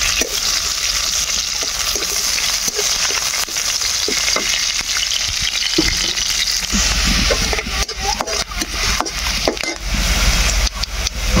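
Onions frying in a pan give a steady, close sizzle punctuated by repeated scraping and knocking of a utensil stirring, growing busier toward the end.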